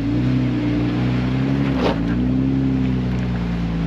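An off-road vehicle crawls slowly over rocks in Hog Canyon near Kanab, Utah, its engine holding a steady low rumble. The note shifts only slightly, with a brief scuff partway through.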